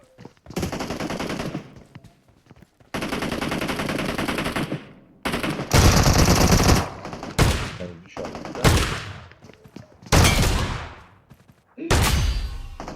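Pump shotgun fire in a shooting video game on the Livik map rings out in loud, sharp bursts, separated by short silences across the stretch, with a player's voice faintly in between.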